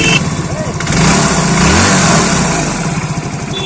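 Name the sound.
motorcycle engine starting and idling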